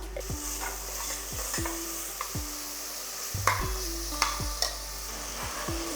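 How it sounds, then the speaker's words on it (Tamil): Pulao ingredients with garam masala sauté in a pan for coconut-milk mint pulao, with a rhythmic series of spatula scrapes and stirs over a soft, steady sizzle. "எல்லாமே நல்லா வதங்கட்டும்"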